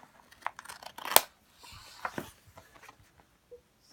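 Scissors cut through the paper pages of a book in a few quick snips, close and crisp, mixed with page handling and rustling, with no talking.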